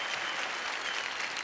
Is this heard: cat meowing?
no